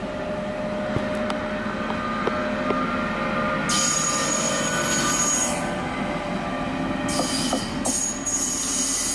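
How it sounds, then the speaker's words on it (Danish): Danish F4 commuter train with green doors running: a steady rumble of wheels on rail, faint clicks from track joints and bursts of high squealing, heard from inside the carriage. "Her er vi i F4-toget 2014'eren."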